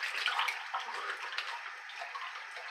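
Tap water running and splashing while a shaving razor is rinsed, a soft continuous hiss with light spattering, close but quiet.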